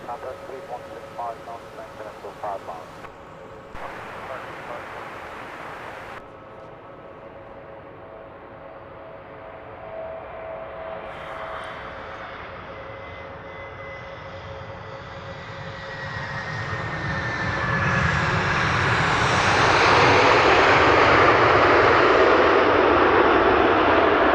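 An airliner's jet engines at London Luton Airport build from a distant hum into a broad, swelling roar that grows loud and stays heavy to the end. A person talks over the early part.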